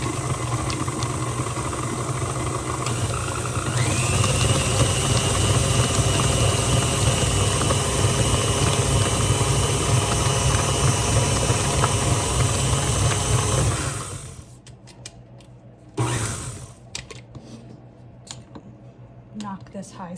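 KitchenAid stand mixer with a bowl scraper beater creaming butter and cream cheese, a loud steady motor whir with rhythmic churning that stops abruptly after about fourteen seconds, followed by a few quiet clanks.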